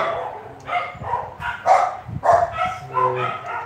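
Dogs barking outside a home during a lamp assembly, a series of loud, close, repeated barks and yips in irregular bursts, with no talk over them.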